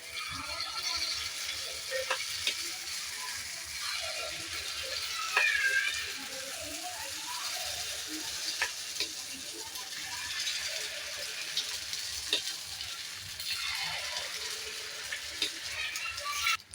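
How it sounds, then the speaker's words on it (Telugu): Pulla untalu batter frying in a pan, a soft continuous sizzle with occasional clicks and scrapes, fairly quiet throughout. "ఇలా మొత్తం వేసుకొని బాగా వేగనీయాలి"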